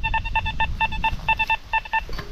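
A metal detector sounds its signal tone over a coin-like target near old trees and a manor site, a quick series of short, clean beeps in small bursts over low outdoor rumble.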